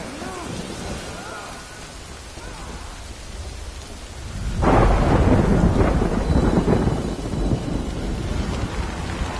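Rain and thunder in the Death Stranding video game, steady rainfall with a loud rolling thunderclap breaking in partway and rumbling on under the continuing downpour.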